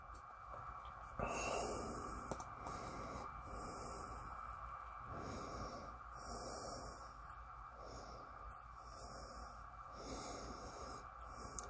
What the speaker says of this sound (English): One more sniff.